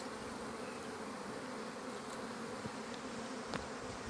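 A thick, steady drone of many honeybees buzzing close by at an open hive during spring inspection, continuous and even throughout with no voices.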